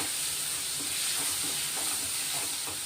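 Bitter gourd sautéing in a pan, a loud continuous close sizzle and hiss with faint stirring scrapes, no voices.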